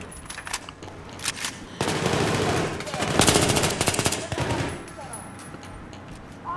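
Rapid automatic gunfire in Battlefield 3, long bursts of close, loud shots rattling through the middle, with quieter scattered shots before and after and a voice speaking faintly underneath.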